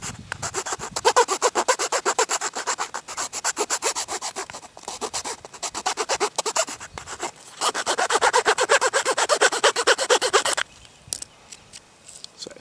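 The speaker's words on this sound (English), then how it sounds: "So sort of just beveled that corner of this wood." The rasp side of a Gerber MP600 blunt-nose multi-tool file scrapes a wooden corner in quick repeated strokes. The rough rhythmic rasping runs steadily for about ten seconds, with short breaks, then stops.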